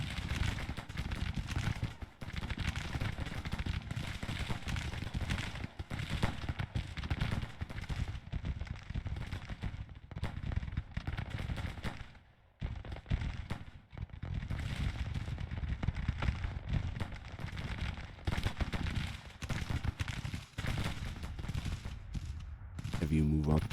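Artillery and rifle gunfire in the Grand Tactician video game, a dense, continuous crackle of musketry with occasional heavier booms, a distant battlefield din that barely lets up.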